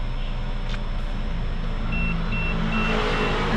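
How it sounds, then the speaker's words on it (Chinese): A car's driver-assist radar warning gives a few short, faint repeated beeps inside the cabin, set over a steady low engine and road hum with no talking. "我们的车里面也会有那个就是雷达的声音"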